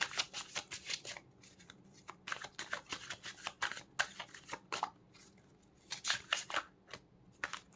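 Tarot cards are shuffled for a card reading, a quiet close series of crisp riffling and slapping bursts in irregular clusters, with no talk.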